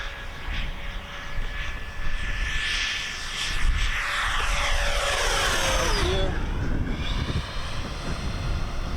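An RC F-16 model jet whines steadily overhead as it comes in for a belly landing, its pitch sliding down and fading near the end under wind noise on the microphone.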